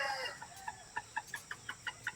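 A laying hen clucks loudly and repeatedly just before laying eggs, a steady run of about eight sharp, evenly spaced clucks close by, alone with no talk.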